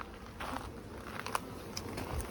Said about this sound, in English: there's just so many bees.